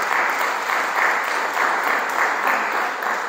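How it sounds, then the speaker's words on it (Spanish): A group claps steadily for a woman turning seventy at a spiritual retreat, a dense continuous patter of hands filling the room with no talk over it. "Un aplauso para ella."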